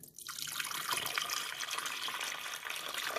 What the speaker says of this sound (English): And then we're going to pour our water in.